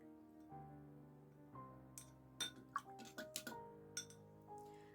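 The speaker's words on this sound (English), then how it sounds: "Rinse off my brush." A gouache paintbrush swirls and taps in a glass of water, giving a few soft clinks and small splashy ticks over a quiet background with a low sustained musical drone.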